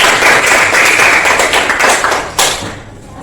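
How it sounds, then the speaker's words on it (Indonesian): A classroom group clapping together, a dense burst of applause that holds steady for a couple of seconds, then a final sharp clap before it quickly fades out. "Tepuk tangan untuk kita semua."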